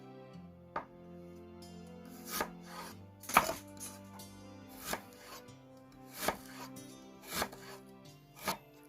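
Ginger being chopped on a board for beef pares: a series of crisp knife strikes, about eight, land at an uneven, unhurried pace, close and clear over faint background tones.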